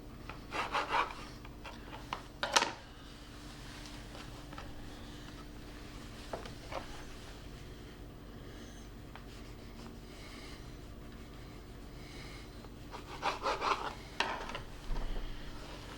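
A knife trims the edges of a pressed Battenberg cake with soft, quiet rubbing and scraping strokes, a few brief bursts at the start and end over low background hum.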